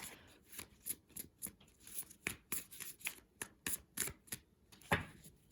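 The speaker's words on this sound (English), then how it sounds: "The reason why I shuffle a lot sometimes is because I'm sort of transmuting the energy inside of the deck." A tarot card deck being shuffled by hand, a close, quiet series of crisp riffling flicks and snaps in an irregular rhythm, about a dozen bursts with short gaps and no talking.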